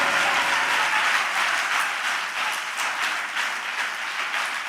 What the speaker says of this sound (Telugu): సంతోషంగా చప్పట్లు కొట్టాడు గట్టిగా.